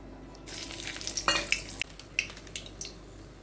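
Whole cardamom, cloves and cinnamon sizzle in hot oil with a little sugar for Golbari-style kosha mangsho, a crackling fry that starts abruptly and carries on with close stirring and scattered pops.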